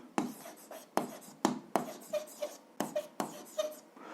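A pen writes out an algebra solution on paper in quick separate strokes, about eight short scratchy bursts in an uneven rhythm, close and quiet.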